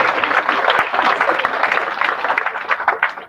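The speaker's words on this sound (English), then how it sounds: "A warm applaud to all of you for being here today" At a road traffic agency partnership launch with a car-buying company, a crowd claps in a dense, fairly loud wash that eases slightly toward the end, with some voices mixed in.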